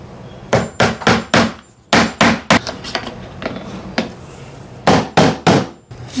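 Hammer blows nailing crown molding near the ceiling, coming as close, loud, sharp strikes in quick bursts of three or four with short pauses between groups.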